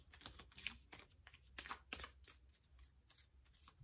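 Tarot cards are shuffled up close in quick, crisp riffling bursts, a rapid papery flutter repeating throughout, quiet and without any talking.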